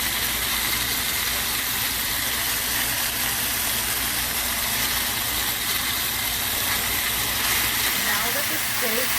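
Seasoned steak sizzles steadily in a hot pan while being flipped, a dense, continuous hiss that stays loud and even throughout.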